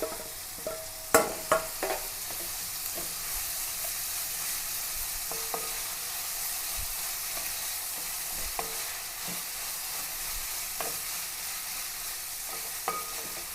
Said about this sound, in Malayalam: ഇതിലേക്ക് പച്ചമുളക് ഇഞ്ചി വെളുത്തുള്ളിയും ചതച്ചതാണ് അങ്ങനെ ഇട്ട് കൊടുക്കുക